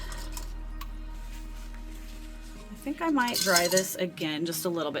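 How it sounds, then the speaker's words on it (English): Small beads rattle and clink against a brush-rinsing water cup during a craft painting session, a light scattered clatter that builds in the second half under a voice talking. "have a lot little beads or whatever in the bottom of my water just to help"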